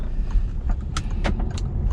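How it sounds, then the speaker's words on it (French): A learner's car pulls away from a parking space during a driving lesson, its engine giving a steady low rumble close by, with a few light clicks and jingles on top and no talking. "Une fois que je peux y aller, je redémarre."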